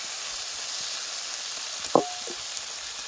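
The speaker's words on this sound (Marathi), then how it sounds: "आपण आता वाटलेला कांदा लसूण मसाला टाकून घेऊ" Ground onion-garlic masala sizzling in a pan, a steady hiss of frying with one short metallic clink of a utensil partway through.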